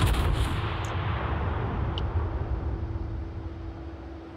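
Heavy naval cannons of the HMS Collingwood battleship boom in a World of Warships tier VII random battle, a dense low rumble sustained throughout, with a few brief higher cracks early on and no talk.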